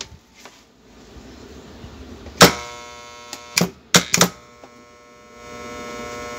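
A repaired electromagnetic contactor sits switched on, giving a faint steady mains hum throughout, broken by several loud sharp clacks and rattles close by near the middle of the sequence.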